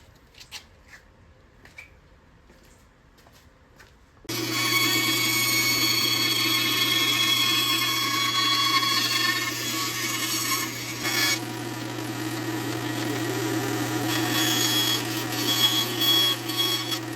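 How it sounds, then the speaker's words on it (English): A bandsaw cutting small wooden circles for a segmented bowl bottom, a few quiet taps, then the saw starts with a steady loud whine and rasping cut that runs to the end, no talk. "I'll use the bandsaw to cut on those lines."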